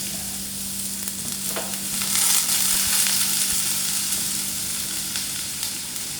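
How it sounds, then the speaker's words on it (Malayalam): Dried red chillies fry in hot oil with a steady, close sizzle, occasionally punctuated by the scrape of stirring in the pan. "നമുക്കിതിനകത്തൊക്കെ ശകലം ഉപ്പിട്ടിട്ടൊന്ന് മൂക്കുന്നിടം വരെ നമുക്കിതൊന്ന് നല്ലോണം മൂപ്പി"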